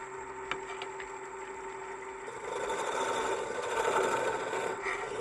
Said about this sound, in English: Now, we're going to go over to the round scraper.